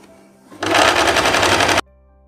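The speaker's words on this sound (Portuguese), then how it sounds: "coloco aqui na máquina, ó, e venho costurando para rebater essa costura aqui" Sewing machine stitching a seam on the lining of a lace dress, one loud, steady run of a bit over a second between quiet moments.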